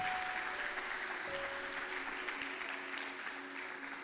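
Congregation at a church service applauding, a steady wash of many hands clapping at moderate distance, with faint sustained musical tones underneath throughout.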